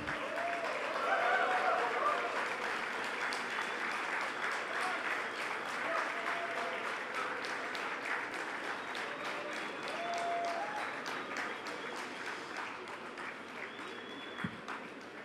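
Sustained applause from a convocation ceremony audience, steady dense clapping that carries on without a break, with a few brief cheers and voices mixed in beneath it.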